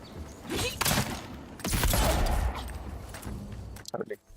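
Pistol gunfire in the fantasy RPG Avowed: several loud shots and bangs in quick succession amid combat noise, with voices talking over the fight.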